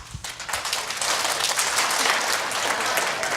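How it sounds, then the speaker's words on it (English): Participants at an AspenBrainLab session clap together after giving partners high fives, a burst of loud, close clapping that builds quickly and holds steady, with no talk over it. "give them a high five, and clap"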